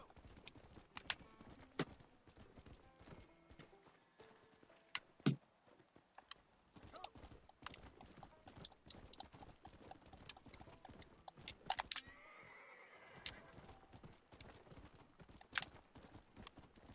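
Horse hooves clip-clopping in the Western video game Red Dead Redemption: a quiet, irregular stream of hoof strikes and footfalls at moderate distance, with scattered sharper knocks and no clear neigh.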